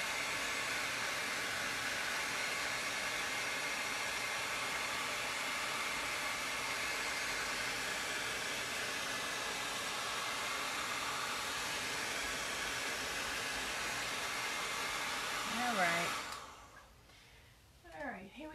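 A hair dryer blows hot air onto freshly hung patterned wallpaper, a loud, steady broadband roar running nearly unbroken before cutting off abruptly near the end, leaving a quiet room.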